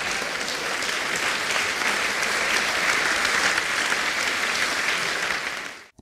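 An audience applauds after a satirical song: a full hall of dense, sustained clapping that holds steady for several seconds, then cuts off abruptly.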